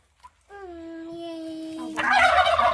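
A turkey hen with newly hatched chicks gives a loud, close gobbling call that holds steady, then breaks into a harsher, noisier rattle at the end, with no speech.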